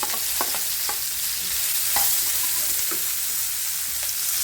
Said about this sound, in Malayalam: ഇത് നന്നായി ഒന്ന് വഴറ്റിയെടുക്കാം